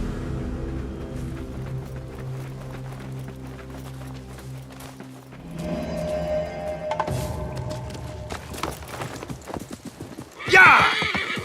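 Horses in the Assassin's Creed Mirage video game trot with steady clip-clopping hooves over a rumbling game soundtrack, building in intensity before a sharp, loud neigh near the end.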